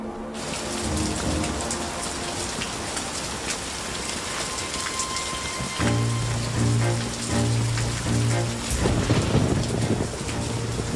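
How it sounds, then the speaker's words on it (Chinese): Heavy rain pours steadily on a windy night, a dense, continuous wash of drops hitting surfaces with low rumbling underneath, loud and close throughout. "风大雨急"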